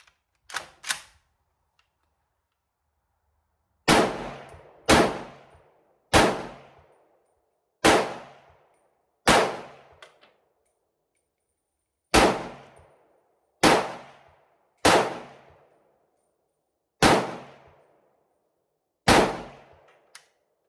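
A Century Arms VSKA AK rifle firing X-Force ammunition outdoors: about a dozen loud, sharp single shots with short decaying echoes, spaced unevenly after an opening quick pair, with no talking.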